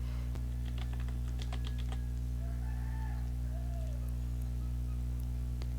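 Keystrokes on a computer keyboard, a quick close burst of clicky taps followed by a few scattered presses over a constant low electrical hum, with a faint rooster crowing in the background.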